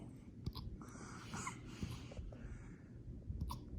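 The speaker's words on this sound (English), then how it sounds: "Oh, no, she's still hiccuping." A white Labrador puppy hiccuping, heard as a few faint, brief, soft jerks spread over several seconds against a low, muffled indoor background.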